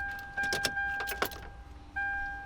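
Car keys jangle in a few quick metallic bursts as they go into the ignition of a Toyota Tacoma, close and brief, over a steady electronic chime.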